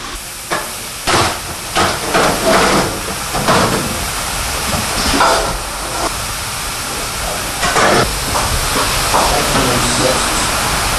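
A steamer cooking sticky rice for kue Katiri hisses loudly in repeated uneven bursts, nearby, over a constant rushing steam background.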